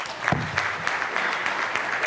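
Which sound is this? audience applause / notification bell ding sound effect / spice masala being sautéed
audience applause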